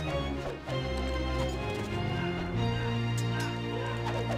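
Hooves of light horses in the strategy game Rise of Nations clatter steadily beneath continuous game music, a soft, busy trotting texture with no voices.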